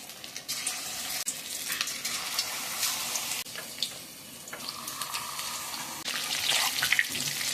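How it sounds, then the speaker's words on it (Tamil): Marinated chicken pieces deep frying in hot oil for a dragon chicken snack, giving a steady, close sizzling hiss with crackling bursts and occasional clinks, no talking. "மேக்னேட் பண்ண சிக்கனை வந்து டீப் ஃப்ரை பண்ணிடலாம்."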